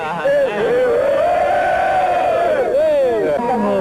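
Organized football supporters' crowd chanting, a massed chorus of voices holding a rising and falling sung line for several seconds, loud and dense, followed by a brief second phrase.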